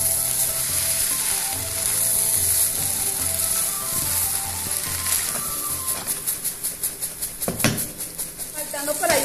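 Vegetables and shrimp sizzle loudly in a hot pot for arroz chaufa, a steady hiss with frying crackle, then rhythmic scraping and clanking as the ingredients are stirred and mixed, close up.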